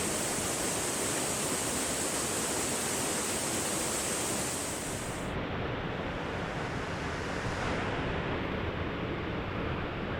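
Wright Creek Falls pouring into Lake Jocassee, a steady, loud broadband roar of falling water that fills the whole clip, close by with no voices.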